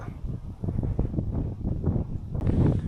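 Wind gusts across a rocky coastline in Australia, a loud buffeting rumble of microphone noise that swells and eases in uneven surges without letup.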